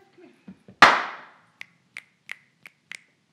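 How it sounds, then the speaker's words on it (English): A loud single hand clap rings out, followed by five lighter, sharper claps spaced evenly, with a few soft taps before them in a quiet room. "I'm gonna clap."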